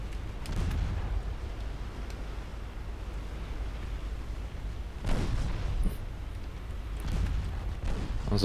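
Distant naval gunfire and explosions thunder across a steady low rumble of battle in Ultimate Admiral Dreadnoughts, with a heavier blast near the middle and scattered booms afterward.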